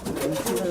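A female pigeon from Uttar Pradesh cooing close up, one soft throaty coo rolling under a voice.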